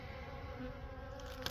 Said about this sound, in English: There's several bees.